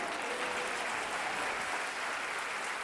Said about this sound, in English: Please give the planning committee a round of applause.